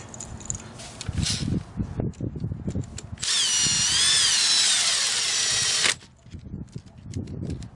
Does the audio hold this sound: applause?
no